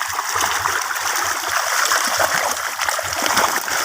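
Catfish thrash and compete for feed at the surface, giving a steady, close, busy churn of splashing and spattering water that continues without pause.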